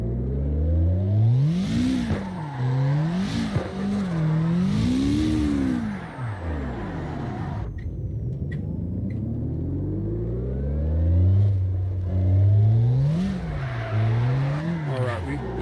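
A car engine in the CarX Drift Online video game revs repeatedly, rising and falling in loud, rhythmic sweeps with a sustained higher-pitched stretch in the middle.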